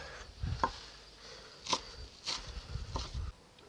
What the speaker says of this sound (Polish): te grube korzonki odkroję, bo nie są potrzebne